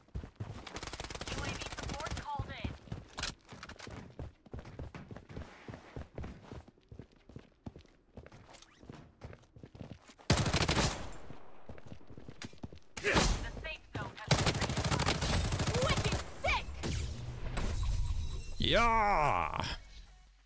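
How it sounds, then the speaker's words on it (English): Gunfire in the Blood Strike shooter game, with an MP5 among the weapons, comes as scattered bursts and sharp shots, some rapid automatic runs, mixed with footsteps and game effects, while players talk over it. "He's shooting at the last guy right now."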